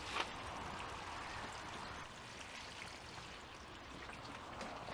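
Water pours from a can onto a freshly planted chilli in a pot, a soft continuous trickle and splash soaking into soil, quiet and close with no voices.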